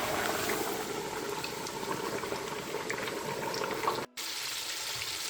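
Coated striped bass steaks deep frying in a fryer give a continuous dense sizzle and crackle of bubbling oil, close and steady, with a brief dropout near the end before the bubbling resumes.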